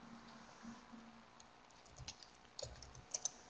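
Typing on a computer keyboard, soft quiet key taps in uneven bursts, a few louder clicks near the end, with no voices.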